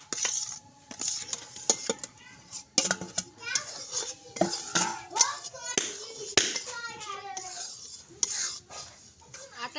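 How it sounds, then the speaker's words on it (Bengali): Homemade wheat flour being dry-roasted in a hot pan on a stove for a sponge cake, with repeated scraping and clinking of a utensil against the pan and voices talking underneath. "এখন আমি আটাগুলোকে ভেজে নিব একটু হালকা করে"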